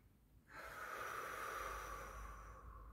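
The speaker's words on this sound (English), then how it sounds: "So take a deep breath in." One long, slow, deep inhalation of breath, soft and close, starting after a brief quiet moment and lasting a couple of seconds.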